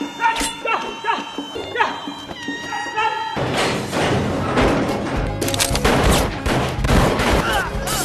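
Cowboys shoot in a film scene, and a dense burst of loud gunfire and impacts erupts after a quieter opening full of voices and sharp sounds.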